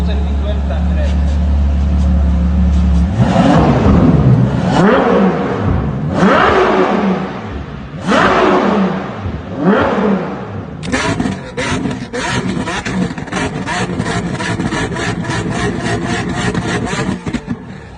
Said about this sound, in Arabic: اسمع بقى الصوت بقى من ورا، صوت البي 12 بتاع الفيراري